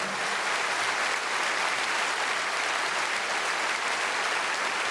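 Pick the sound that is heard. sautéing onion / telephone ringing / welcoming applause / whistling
welcoming applause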